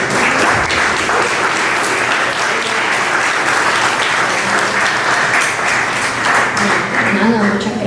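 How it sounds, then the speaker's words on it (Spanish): Audience applause at a book presentation, loud and sustained clapping from a packed room that stays dense and even for several seconds. "eso merece un aplauso también"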